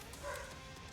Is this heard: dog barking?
yes